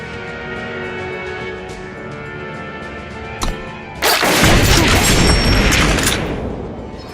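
A gun in the video game Eternal fires in a sudden loud burst of dense, crackling blasts that follow a quiet stretch with a steady background hum and one brief thud, then the noise slowly fades.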